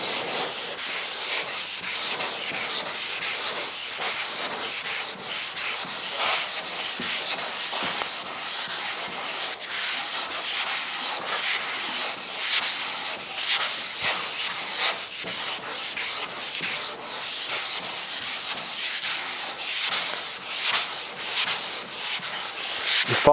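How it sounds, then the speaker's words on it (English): Hand sanding along the curved body panel of a 1956 Chrysler 300 during bodywork, a continuous close scratchy rasp of abrasive paper with steady back-and-forth strokes, loud and alone without talk. "Follow the curvature of the body as you're sanding."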